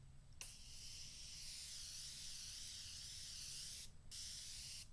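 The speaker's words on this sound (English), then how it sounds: "I could literally spray myself with this." Makeup setting spray misted steadily from a pump bottle, a long continuous close hiss with short pauses at the start and near the end, no voices.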